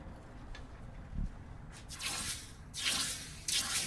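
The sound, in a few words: water for quenching heated metal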